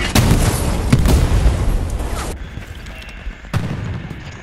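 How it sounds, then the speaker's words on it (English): Booming cannon fire and explosions from a recon tank in the World War II shooter Hell Let Loose, loud and close: a heavy blast rolls into a long roaring rumble, then goes quieter before another sharp boom near the end. "The recon tank over here wrecking havoc."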